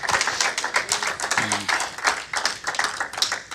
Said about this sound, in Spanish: Dale un aplauso al Rey de la Gloria.